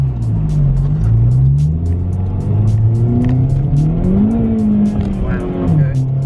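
A Honda Civic Type R driven hard in R mode, its engine loud and close as it revs and pulls through the gears with rising and falling pitch, road rumble underneath and occasional tire noise, with people talking in the cabin.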